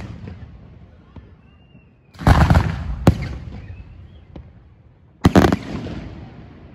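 New Year's fireworks show: two big loud bursts of crackling explosions a few seconds apart, with sharp single bangs and whistling rockets between, heard from nearby outdoors with faint voices.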